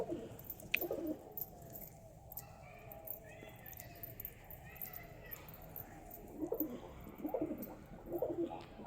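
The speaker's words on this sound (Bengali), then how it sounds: "দেখতেই পাচ্ছ সব কবুতরগুলো কি করছে দেখো" Soft pigeon cooing rumbles in low bursts, growing busier toward the end, with faint chirps and background noise around it.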